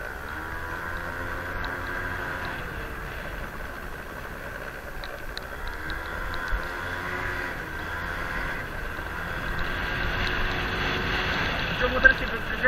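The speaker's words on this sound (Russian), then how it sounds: "Щиток дребезжит." A Honda Dio motor scooter rides through the village of Severomuisk with a rattling front shield. The engine drones steadily and continuously, mixed with wind rush and faint clatter.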